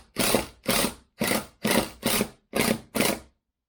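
A ratchet tightening fasteners on an RV door while repairing its rotted bottom, heard as seven short, evenly spaced bursts of rapid clicking, close and clear with no talk.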